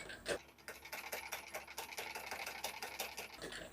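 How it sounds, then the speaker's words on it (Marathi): Sewing machine stitching along a blouse neckline, a steady fast mechanical rattle of needle strokes running continuously and close, with a louder knock near the start. "परत टंचन खाली ठेवून आपल्याला शिलाई देऊन घ्यायची आहे"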